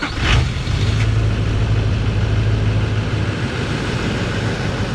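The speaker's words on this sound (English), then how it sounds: "We'll let the truck warm up a little bit." A truck engine idles steadily while warming up on a farm during harvest season, a constant low rumble close by with a brief louder burst at the start.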